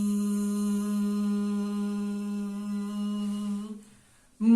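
A single sustained voiced buzz imitating a bee, a steady droning hum held for about four seconds, loud and close, before trailing off and cutting into a brief new sound at the end.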